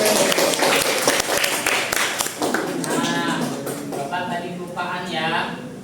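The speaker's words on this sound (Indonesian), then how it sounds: "Ya betul, beri aplaus." Students in a classroom break into applause, a dense burst of clapping that then thins into scattered claps and mixed voices, close and loud.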